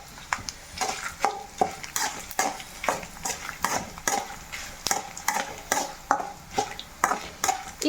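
Dried red chillies, cumin and coriander seeds fry in oil while a spoon scrapes and taps the pan in a quick steady rhythm over a soft sizzle, close up and without speech.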